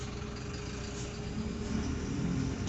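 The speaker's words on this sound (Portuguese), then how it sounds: "Que lá vem um carro aqui tentando" Car pulling up near a bus stop, trying to take a parking spot: a low, steady engine rumble and idle hum, fairly faint and continuous, with no talk.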